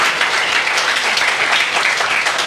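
A church congregation at an Easter resurrection service claps together, loud, dense and continuous applause filling the room with no voices over it.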